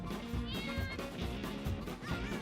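Cartoonish cat meows from the video game Mewgenics come in several short overlapping calls over a busy backdrop of game music and effects, with a voice faintly present.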